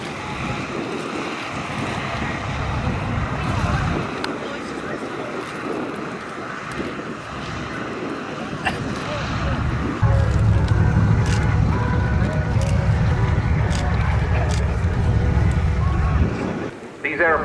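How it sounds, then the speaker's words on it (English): Boeing B-17 Flying Fortress warming up its piston engines at an RAF Scampton airshow, a low continuous rumble that grows heavier midway, heard at a distance under wind noise and an announcer's voice. "the Boeing B-17 Flying Fortress, one of which we're going to see next on the programme, which is just warming its engines"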